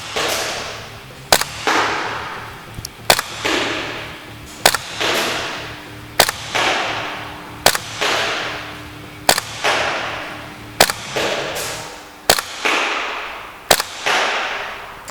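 A Tokyo Marui Desert Eagle Hard-Kick gas blowback airsoft pistol fires about ten loud, sharp cracks at a slow, steady pace on an indoor range, each shot ringing briefly before the next.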